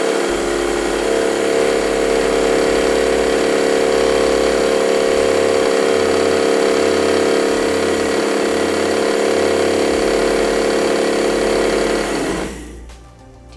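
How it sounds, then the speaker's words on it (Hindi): A DC motor running as a generator, a loud, steady mechanical whine and hum with a pulsing low drone, continuous for most of the time before winding down at the end. "तो दोस्तों तो साउंड भी इसकी जनरेटर की तरह ही आ रही है।"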